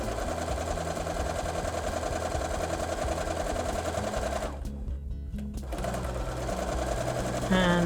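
A sewing machine stitches fabric ornament pieces with a close, rapid mechanical whirring, running steadily, pausing briefly in the middle, then resuming, with a person speaking over it.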